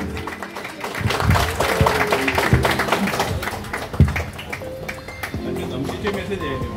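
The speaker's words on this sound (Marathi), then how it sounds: "जरा जोरदार टाळ्या होऊन दे." An audience at a gym inauguration in a housing society park claps steadily in a sustained burst of applause, close and fairly loud, with some voices mixed in.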